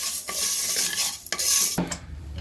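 Green gram dry roasting in a pan, stirred with a spoon: close dry rattling and scraping strokes, a few sharp clatters, then a brief sizzle near the end.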